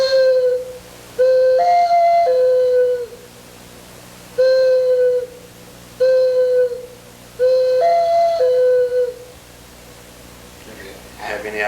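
A person imitates a dove's cooing with a call, giving repeated soft hooting phrases in a rhythmic pattern of short and longer notes, close and fairly loud, with pauses between groups.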